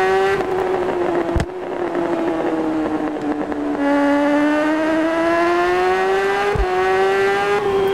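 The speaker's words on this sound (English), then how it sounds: "Got real, you know, bass from the downshifts of the exhaust." Motorcycle engine in the racing game RiMS Racing: a loud, continuous revving exhaust note climbs and falls in pitch, with a couple of sharp pops at the downshifts, heard up close and alone without talk.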